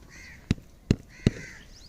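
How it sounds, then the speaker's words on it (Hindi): Crows cawing in a village, three loud, sharp calls spaced roughly evenly over a faint outdoor background, as the birds call their companions over. "कौवे खुद भी आ चुके हैं और अपने साथियों को भी बुला रहे हैं काएं काएं करके"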